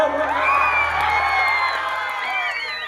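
A crowd at a village fair concert cheers and whoops loudly, a dense sustained roar of many voices with high shouts rising over it, close and continuous throughout.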